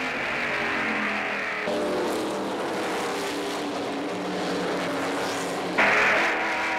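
NASCAR stock cars racing side by side in 1996, a steady loud engine roar with shifting tones as cars pass, the sound cutting and changing abruptly partway through.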